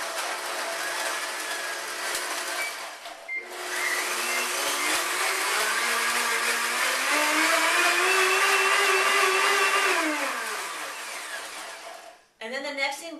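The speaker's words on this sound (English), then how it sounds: "you want to at this point blend and get your stock going" A K-Tec high-speed blender whirs loudly through mushroom soup stock, its motor pitch rising steadily then winding down before a short second pulse, close by and steady.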